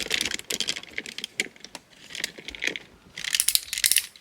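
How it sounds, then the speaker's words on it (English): A die-cast FansToys FM-03 Warhorse figure has its ratcheted waist joint rotated, producing a run of small, crisp plastic clicks in quick clusters, close and fairly quiet. "Ratcheted waist rotation, that's interesting for FansToys"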